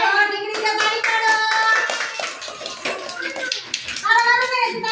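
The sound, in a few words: children clapping hands during a ball-passing game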